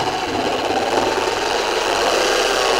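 A Rupes Mark3 car polishing machine running up slowly, a loud, dense, steady whirring hum with a slight rattle that stays even throughout.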